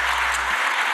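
Party members in the Spanish parliament chamber applaud in a short, dense burst of clapping that fills the room for about a second.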